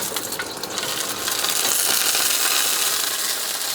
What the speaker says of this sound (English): we're gonna sear the tempeh now.